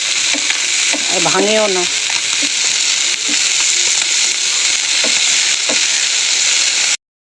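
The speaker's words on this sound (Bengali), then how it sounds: "এবার মাছগুলো প্রত্যেকটা আমি উল্টিয়ে দেবো।" Small fish fry in a nonstick saucepan with a loud, steady sizzle and hiss, broken by a few stirring knocks as someone speaks briefly over it early on.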